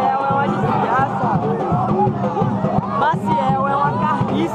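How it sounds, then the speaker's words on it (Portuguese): Stadium crowd chanting a player's name, Neto Baiano, during a Vitória versus Bragantino football match, a dense roar of many voices with rhythmic swells, close and loud throughout. "Torcida chamando Neto Baiano, velho."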